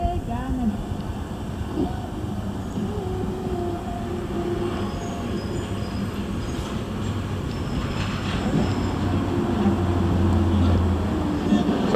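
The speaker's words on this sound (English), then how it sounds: "We got trucks going by right now." Heavy trucks rumble past outside in a continuous low drone that swells louder toward the end, with some faint speech in the background.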